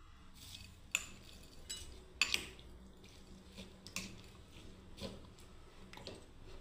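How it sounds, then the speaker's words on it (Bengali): A spoon clinks and taps against a plate or bowl while mixing motor chaat, a spiced pea street snack, giving a few soft, scattered metallic ticks over a quiet background. "এবার আমি চামচ দিয়ে বন্ধুরা মিশিয়ে নিচ্ছি"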